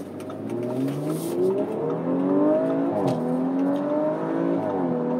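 A 2019 Audi RS5 Sportback engine pulls hard under acceleration, its note climbing steadily through the gears with a brief dip at a shift before rising again, loud and continuous from inside the car.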